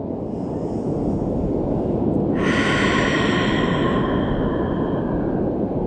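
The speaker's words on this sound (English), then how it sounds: "take 2 long ha breaths" Long, loud exhaled breath through the mouth during a yoga hip stretch, a steady rushing exhale swelling midway and holding strong to the end, heard close and alone without talk.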